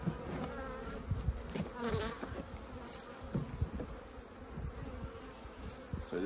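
Honey bees buzzing inside a winter nuc hive, a faint, close, shifting hum of many insects with individual bees droning past at moments.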